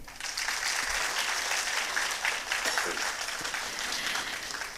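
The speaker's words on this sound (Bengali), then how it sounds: "ওনার জন্য একটা জোরে করতালি" A hall audience at a Bengali community gathering breaks into loud, sustained applause for a visiting guest, a dense wash of many hands clapping at once for nearly five seconds with no speech over it.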